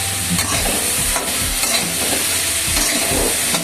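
A curry with soybean and cauliflower frying in a pan, steady sizzle with repeated scraping stirs of a spatula against the metal, close and fairly loud, with no talk.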